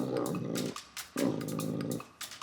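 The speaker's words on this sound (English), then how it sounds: "it's a bit scary when he's barking in your face like that" A large dog barks and growls up close in two sustained, loud bursts with a short pause between, deep and rough, aggressive at someone confronting it.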